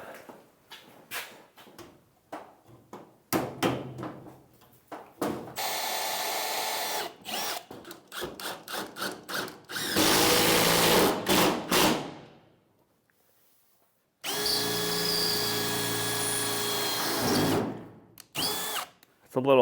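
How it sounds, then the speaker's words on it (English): Power drill pre-drilling a hole in wood while building a chicken coop, heard as several loud, sustained whirring bursts separated by thuds, clicks and short gaps, with a little background speech. "Let me try to get one pre-drilled."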